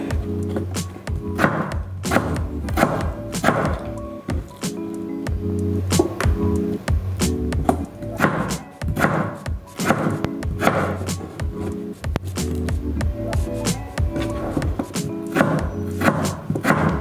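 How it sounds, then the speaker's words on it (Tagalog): A knife chops potatoes into small pieces on a cutting board while cooking beef steak, steady rapid knocks repeating close and loud for about seventeen seconds with no talking. "hinihiwa ko na ang patatas ng mga maliliit."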